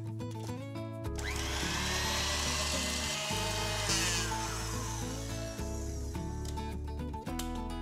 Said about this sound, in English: So I'm going to whip them up full speed.